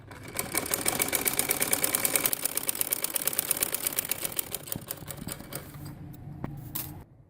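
A sewing machine stitches a Patiala salwar in a rapid, continuous mechanical patter, close and fairly loud, slowing near the end into a few separate clacks before stopping.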